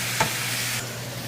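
Shaved Angus beef, the cheesesteak kind, sizzles in a pan with a bright, steady hiss, a brief tap or scrape near the start, and the sizzle easing slightly toward the end; no talking.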